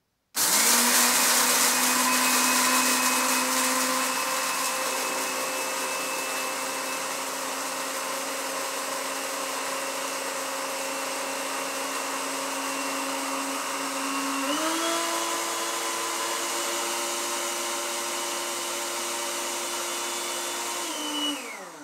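Blender grinding melon seeds into flour, a loud steady motor whine running throughout with a shift to higher pitch partway through, alone with no talk.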